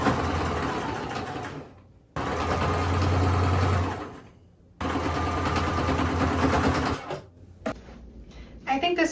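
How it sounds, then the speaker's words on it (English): A sewing machine stitches along a seam of a thrifted garment being altered, running in three long, steady bursts with short pauses between them, close and fairly loud. "And now I'm just gonna sew along this here"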